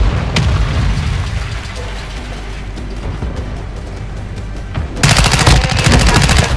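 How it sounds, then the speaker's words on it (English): Heavy in-game mortar barrage from Call of Duty Warzone, a dense run of loud booming blasts and crackling gunfire, swelling into a sharper, more intense volley toward the end with no talking. "Mortar strike on the way."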